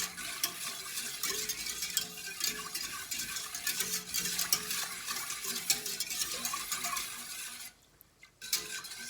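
Milk and sugar being whisked in a pot, a steady scraping and clinking stir with faint sizzle underneath, continuous and close, with a brief quiet gap near the end.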